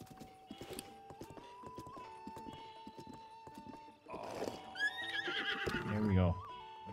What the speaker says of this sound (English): Look at the white horses.